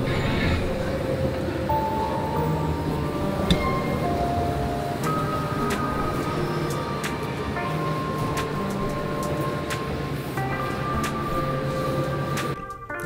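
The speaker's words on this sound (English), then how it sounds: "catching a train to this beautiful city" Steady rumbling hum of a train interior in motion, travelling to Edinburgh, with faint clicks and squeals from the carriage and occasional muffled voices.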